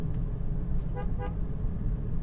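A replacement car horn on a Suzuki car gives two quick, short honks back to back over a low background rumble.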